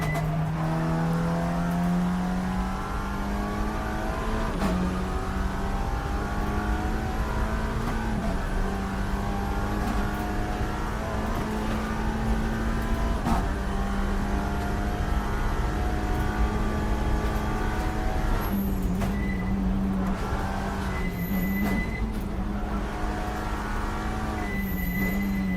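Race car in the NLS 3H Series, a GT3 with soft suspension, heard from the cockpit: a steady, loud engine drone that holds at high revs, with sharp gear-shift breaks every few seconds and no talking.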